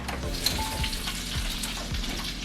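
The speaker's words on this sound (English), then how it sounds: "The lamb has been in the oven for about 30-35 minutes. I can hear it sizzling." Steady crackling sizzle of a rack of lamb roasting in the oven, a continuous hiss with faint pops and low rumbling background, no voices.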